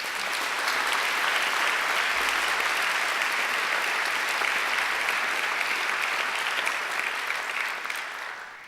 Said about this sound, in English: Professor Rowe deserves another great round of applause.